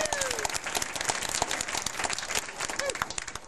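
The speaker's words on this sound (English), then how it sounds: "big applause" An audience claps loudly as a performer named Billy J comes on stage at a live show, crisp rapid hand claps forming a dense continuous ovation with some crowd noise mixed in.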